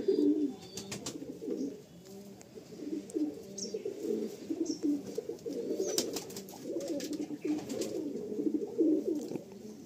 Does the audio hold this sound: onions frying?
no